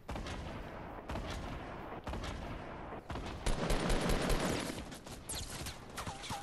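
Gunfire in a first-person shooter video game: rapid repeated shots and bursts, loud and dense, with brief gaps between volleys and a heavier sustained barrage toward the middle.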